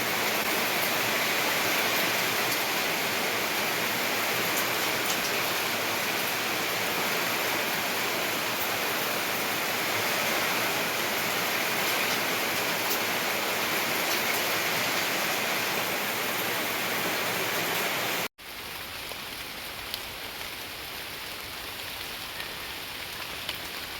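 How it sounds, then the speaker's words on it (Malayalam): Heavy monsoon rain pours down steadily with wind in a Kerala garden, a dense, loud, continuous rush that drops briefly near the end and then carries on slightly softer, with no voices. "ഇന്ന് ഇവിടെ ഇതുപോലുള്ള മഴയായിരുന്നു നല്ല മഴയായിരുന്നു"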